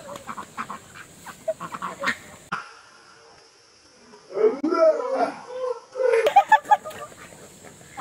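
Several ducks quack in loud, clustered bursts with short pauses between them, close by. Voices talk in between.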